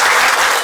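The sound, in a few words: audience applause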